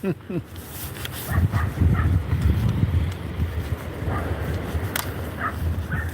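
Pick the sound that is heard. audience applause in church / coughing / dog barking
dog barking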